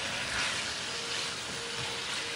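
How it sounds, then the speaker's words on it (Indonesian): Meat fries in cooking oil in a pan, a steady close hiss and sizzle with no voices. "Jadi mau kita goreng dulu dagingnya."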